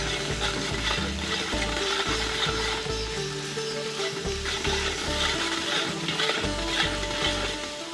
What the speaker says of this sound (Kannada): 2 ಚಮಚದಷ್ಟು ಬೆಳ್ಳುಳ್ಳಿ ಪೇಸ್ಟನ್ನು ಹಾಕ್ಕೊಳ್ತಾ ಇದ್ದೀನಿ